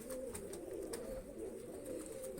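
A pigeon coos in a loft, a low, continuous, throaty burble close by, with faint background hiss and occasional soft knocks.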